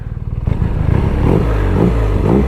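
A BMW R nineT Pure motorcycle engine revs up close and loud, a low throaty boxer rumble swelling into repeated throttle blips with mechanical clatter.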